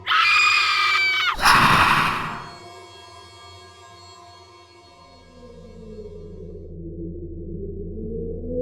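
A long, shrill scream rises high and wavering, then cuts off with a harsh burst, leaving eerie low droning tones that fade and swell.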